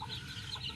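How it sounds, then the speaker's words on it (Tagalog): A Black Australorp hen gives a brief, soft run of low clucks, quiet and close. "Tapos nandito naman yung Black Astralorp natin."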